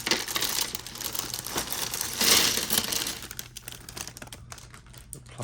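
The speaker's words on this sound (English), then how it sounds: "Let's get past this noisy plastic." Plastic packaging from a LEGO City tractor set crinkles and crackles close by, a busy, uneven rustle with sharp crisp bursts and small clicking taps, no voices over it.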